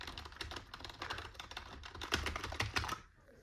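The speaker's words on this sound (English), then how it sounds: "Intense Alt-tab clicking." Computer keyboard keys are pressed in quick, repeated Alt-Tab bursts during a Windows 11 installation. The clicks sound faint and close, then stop abruptly near the end.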